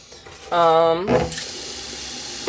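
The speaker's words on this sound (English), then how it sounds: "to wash my rice kind of a thing" Tap water runs steadily into a kitchen sink for washing brown rice, a loud continuous rush with a brief sharper splash near the start.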